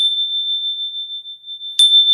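A single small bell rings with a clear, sustained high tone that hangs steadily, briefly struck again near the end.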